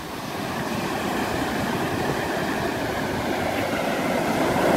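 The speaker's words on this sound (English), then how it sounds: "Black Sand Beach." Surf rolls in at Black Sand Beach along the Road to Hana in Hawaii, a constant rushing roar of waves that swells slightly toward the end, with no speech.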